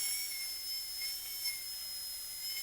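High-speed dental drill with a burr cutting a tooth during an onlay preparation, a steady thin high-pitched whine held throughout, fairly quiet and without talk.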